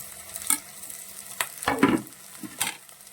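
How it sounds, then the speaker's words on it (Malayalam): Ginger, shallots and green chilies fry in a hot pan, with a soft sizzle under a few sharp scrapes and clinks of a spoon stirring. "നമ്മുടെ ചട്ടി ചൂടായിട്ടുണ്ട് നമുക്ക് ആദ്യം തന്നെ ഇഞ്ചി അങ്ങോട്ട് ഇട്ട് കൊടുക്കാം പിന്നെ നമ്മുടെ ഉള്ളിയും അതുപോലെ തന്നെ പച്ചമുളകും"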